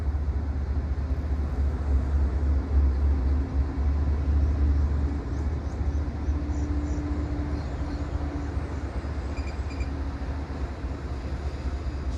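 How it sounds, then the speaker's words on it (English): A steady low rumble of an outbound MBTA commuter train rolling past at a distance in Readville yard, with faint mechanical whine and wheel noise, continuous and even. "Here we have an outbound train that just finished its trip to Fairmont."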